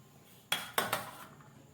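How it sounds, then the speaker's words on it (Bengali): Cut potato pieces dropped into a bowl in a home kitchen: three quick clattering knocks in close succession, near and fairly crisp, then quiet. "এবার এই আলুগুলোকে এই বাটিটার মধ্যে"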